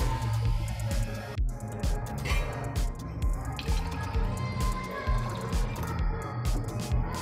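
Water poured into a pot for plain khichdi, a continuous liquid pour with drips and splashes that lasts several seconds in a home kitchen. Low background hum runs throughout.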